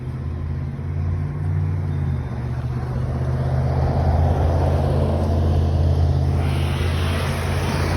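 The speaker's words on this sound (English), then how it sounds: "This car is following right behind me as if I'm gonna move" Steady, loud road rumble and engine drone of a car driving close behind, continuous for the whole stretch with a broad hiss of tyre and wind noise.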